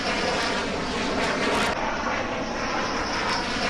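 A Rafale 4.5-generation fighter jet lands at Ambala airbase in India, its engine roar loud, dense and continuous throughout with no voices.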